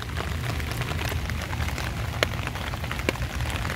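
Steady rain falling in Gwangmyeong, Gyeonggi-do, South Korea, a continuous close hiss of drops hitting surfaces, with a few sharper individual drips standing out, and no voices.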